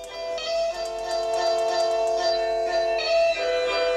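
Music plays at full volume from the single small loudspeaker of an Oukitel WP12 Pro rugged smartphone, steady and continuous with a bright, thin tone and a repeating rhythmic pattern, heard alone.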